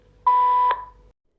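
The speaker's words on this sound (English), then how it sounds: "Wait until you hear a short beep, which means the reset is successful." A LaView R12 outdoor security camera gives one short electronic beep confirming a factory reset: a single clean, steady tone lasting about half a second, loud and close, with a brief click at its end and silence around it.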